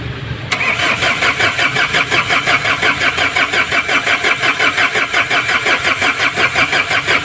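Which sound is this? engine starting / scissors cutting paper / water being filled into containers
engine starting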